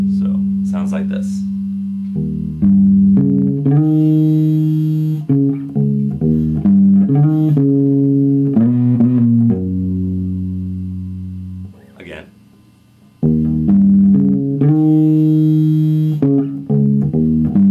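Bass guitar plays an intro riff, loud and close, with sustained low notes, shifting chord shapes and trills across a long continuous passage, with a short gap before the riff returns.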